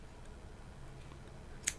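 Sharp scissors from a Coil Master DIY mini coil build kit cut through cotton wick in a single quick, faint snip, alone in near silence.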